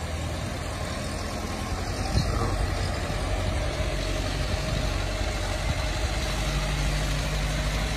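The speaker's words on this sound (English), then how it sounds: "a video of it running and driving for Greg, so you can see it does run and drive." A 100-year-old Ford Model T engine running, a steady low idling rumble with a faint mechanical clatter, continuous and close.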